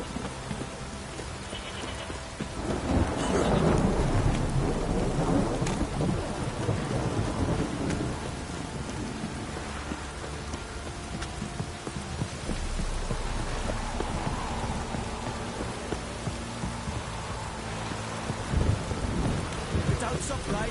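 Heavy rain pours steadily with deep rolling thunder in a video game scene, a continuous wash of falling water and low rumbles throughout.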